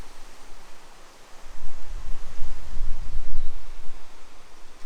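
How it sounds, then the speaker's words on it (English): Wind gusting along a desert spring trail lined with giant palm trees near Shoshone, a soft steady hiss that swells into louder low rumbling buffets through the second half, with no talking. "You can hear the wind."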